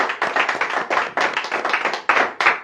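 A church congregation claps together at a worship service, a steady, rapid run of close, loud hand claps with a slightly uneven rhythm and no talking.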